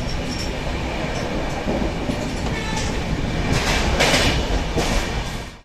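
Sleeper coach train on an overnight run to Siliguri, rolling steadily on the rails with a continuous loud rumble and rattle and a faint clickety-clack of wheels throughout, no voices.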